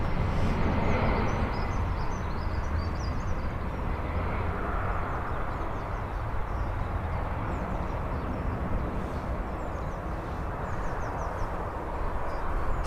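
Boeing Dreamliner departing Birmingham airport: a steady, broad jet roar holds at a constant level throughout, distant and unbroken, with faint bird chirps scattered above it.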